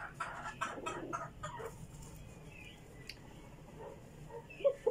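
A rooster or young stag clucks faintly while being held against a handler's chest for a vitamin injection. A few soft clucks and rustles sit over a low background.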